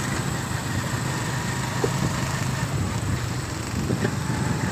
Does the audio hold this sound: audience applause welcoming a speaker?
no